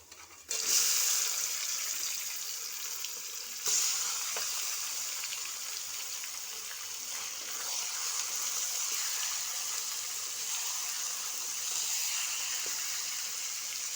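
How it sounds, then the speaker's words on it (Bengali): Marinated chicken is poured onto a hot onion tempering in a pan for Bengali chicken kosha. It sets off a loud, steady sizzle and frying hiss that lasts throughout, with a brief flare partway in and no talking. "পেঁয়াজ ফোড়নটা হয়ে গিয়েছে, এখন আমি ঢেলে দিচ্ছি কষানো যে মাংসটা"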